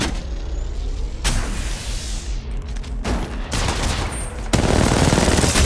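Sustained automatic gunfire from the Apex Legends video game during a ranked match, loud bursts of rapid fire with shifting intensity across several firefights, growing heavier near the end.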